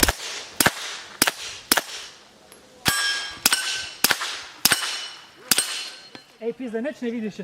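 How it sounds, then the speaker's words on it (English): Arex Rex Zero 1 pistol fired with subsonic ammo at an outdoor range: about a dozen sharp, fairly quiet cracks in an irregular string with metallic ringing, then voices talking at the end. "This one is hearing safe with subsonic ammo."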